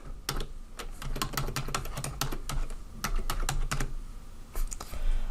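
Rapid clicking of a computer keyboard as someone types into a new Word document, with uneven bursts of keystrokes and brief pauses, close and clear with no talking.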